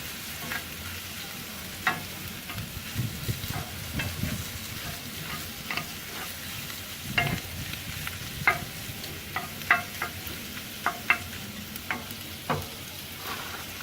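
Smoked cheesy bacon shrimp cooking in a pan, giving a steady soft sizzle and frying hiss with intermittent clinks and scrapes from stirring, heard up close with no talking.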